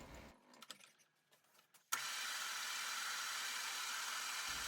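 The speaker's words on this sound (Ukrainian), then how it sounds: "Ставлю фрезу і поїхали крутити поворотний стіл" A milling cutter on a rotary table starts with a sudden onset and then runs as a steady, even whirring hiss. Quieter scattered noises come before it, and the machine holds a constant tone to the end.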